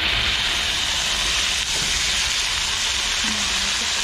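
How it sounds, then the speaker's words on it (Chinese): Shredded potatoes stir-fry in a wok inside a camper van kitchen, giving a steady, close hiss and sizzle with no talking. "这边再炒个土豆丝"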